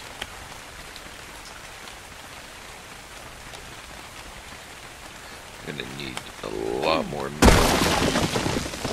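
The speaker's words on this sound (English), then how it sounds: "Oh, it's raining?" Rain falls in the video game Ark Survival Evolved, a steady wash of patter throughout. A voice rises briefly near the end, and then a sudden louder surge of noise swells over the rain.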